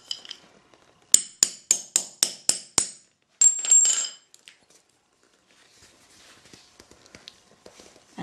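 A mallet taps metal rivets into a bag to set them, about seven sharp, evenly spaced strikes close by followed by a brief scraping rattle, then near quiet with faint handling noises.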